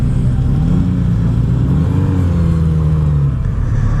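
A Kawasaki Z900RS inline four-cylinder motorcycle with an Akrapovic exhaust runs with a loud, steady, close-up engine rumble. The pitch shifts slightly as it revs, and no one speaks.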